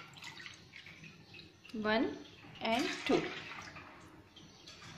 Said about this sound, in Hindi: इतने 2 बाउल भर के मैं इसमें पानी लूंगी।